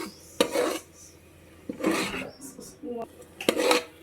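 A utensil stirs potato paneer curry with onion paste in a pan, making intermittent scraping and clinking against the metal in short bursts separated by quieter pauses.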